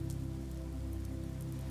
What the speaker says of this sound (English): the rain falls in sheets, bouncing off the ground onto your weather-proofed boots